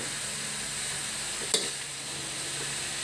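Chicken frying in a pan as ground black pepper is stirred in, a steady close hiss of sizzling oil with a single sharp scrape of the utensil partway through.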